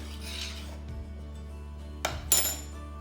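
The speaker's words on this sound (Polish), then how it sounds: "I mieszamy, niech to się tam gotuje." A spoon stirs a homemade mozzarella-style white cheese mixture in a pot, giving faint scraping and rubbing followed by a couple of louder metallic clinks near the end.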